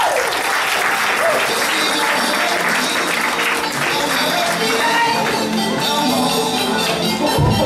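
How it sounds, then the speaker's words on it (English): Audience applause at a comedy roast as comedian George is introduced, a steady, full wash of clapping lasting the whole stretch, loud and close with scattered cheers mixed in. "please give a round of applause for George"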